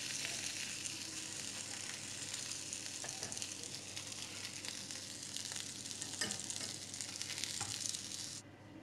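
Steady, dense sizzling of meat-and-cabbage patties frying in hot sunflower oil, loud and close, crackling continuously with occasional pops, no voices.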